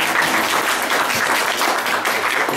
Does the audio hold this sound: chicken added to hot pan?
no